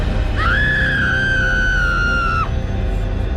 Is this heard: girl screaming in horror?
yes